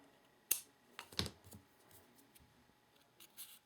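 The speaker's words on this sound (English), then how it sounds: "I'm just going to go ahead and just trim these little tails right here" Scissors snip paper tails off a handmade greeting card, a few short, crisp cuts close by in an otherwise quiet room.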